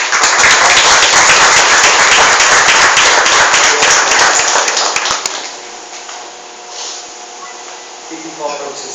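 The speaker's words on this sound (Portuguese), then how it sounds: "Vamos dar uma salva de palmas para ela." A church congregation gives loud, dense applause during a sermon. It lasts about five seconds, then cuts off into near quiet with faint voices.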